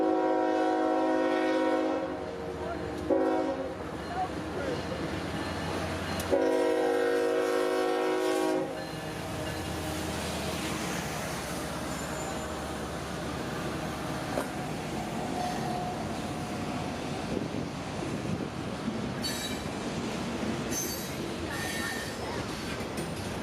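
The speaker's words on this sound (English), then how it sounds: "and the juice train is here once again" A train horn blares in long loud blasts as a freight train rumbles past on the Palmetto Subdivision, its wheels clattering and squealing steadily after the horn fades.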